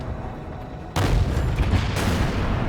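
A single heavy tank cannon shot from a KV-1S in World of Tanks, a sudden loud boom that rings out in a broad rumbling tail over a low engine drone, with no talking.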